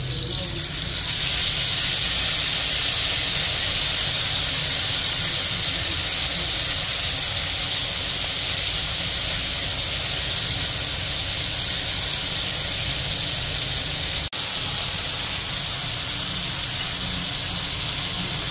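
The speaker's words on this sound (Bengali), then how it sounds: "এখন ওই টমেটো পেস্টটা, যার সঙ্গে আদাও আছে, কাঁচা লঙ্কাও আছে, ওই পেস্টটা ঢেলে দেবো ভাজার জন্য" Tomato, ginger and green chili paste frying in a pan for a potato and pointed gourd curry gives off a loud, steady, hissing sizzle that runs continuously, with no talk over it.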